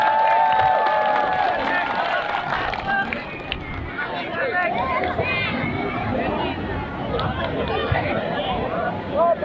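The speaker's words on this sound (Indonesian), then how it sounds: "Kita berikan tepuk tangan yang meriah." A crowd at a village football tournament trophy ceremony in Indonesia cheers and applauds in a dense, continuous roar, with voices and babble mixed through it.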